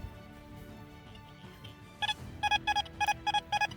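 A metal detector gives a series of short, steady electronic beeps in a regular rhythm, starting after a quiet stretch of faint background hum.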